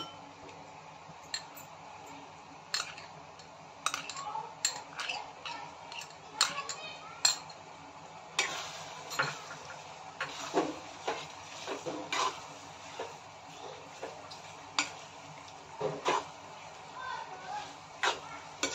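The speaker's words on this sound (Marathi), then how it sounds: "चीज व इतर मिश्रण आपण व्यवस्थित मिक्स करून घ्यायचं" Cheese being stirred into white sauce pasta in a pan, with repeated clinks and scrapes of a spoon against the cookware in an irregular rhythm, fairly close, over a low background.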